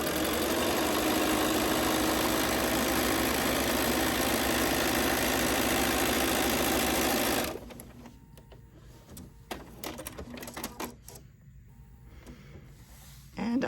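A sewing machine stitches a straight line through quilted flex foam, running steady and loud with a continuous motor whir for about seven seconds before stopping abruptly, followed by softer handling clicks and fabric rustle.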